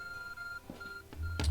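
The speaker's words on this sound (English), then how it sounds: "Your arc phone is beeping." Arc Phone in Pokémon Legends Arceus gives a short series of electronic beeps: a steady tone that breaks off, resumes, and ends in a brighter chirp amid quiet game background.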